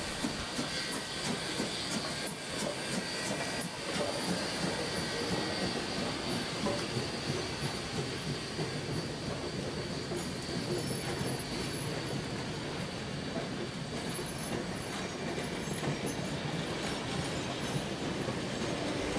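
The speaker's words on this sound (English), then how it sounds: "the City Rail train is now pulling into Wollongong Station" A CityRail passenger train rumbles steadily close by as it pulls into Wollongong Station, wheels hissing and faintly squealing on the rails as it rolls slowly along without pause.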